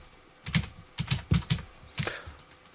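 Typing a search on a computer keyboard, a series of about ten crisp close key clacks in quick irregular bursts, with short pauses between groups and no talk.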